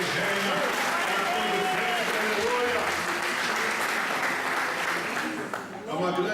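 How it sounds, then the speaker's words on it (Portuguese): A church congregation applauds God together in sustained, even applause, with cheering voices and shouts rising through the dense clapping until it thins near the end. "Agora levanta as tuas mãos para cima e aplauda aquele que vive e reina."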